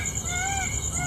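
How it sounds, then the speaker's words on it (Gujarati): A peacock calls in a Gujarati farming village, a thin wavering cry heard at a distance over steady outdoor hum and background noise. "જો મોર બોલે છે"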